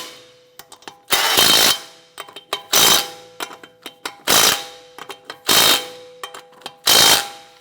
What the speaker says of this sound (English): Go ahead and torque down your lug nuts to 83 foot-pounds.